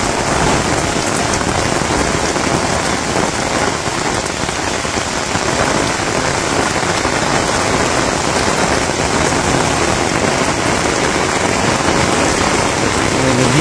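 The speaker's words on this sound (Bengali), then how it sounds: "তারপরে থেকে শুরু হয়েছে বৃষ্টি।" Heavy monsoon rain in rural Bangladesh pours down steadily and loudly, a dense, unbroken hiss of drops on surfaces with no voices.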